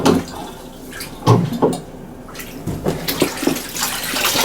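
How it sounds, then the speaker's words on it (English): Water pours and splashes out of a drenched backpack made of rubberized material, a steady gushing trickle with bursts of heavier splashing, close and fairly loud. "I'm going to go ahead and empty the water out."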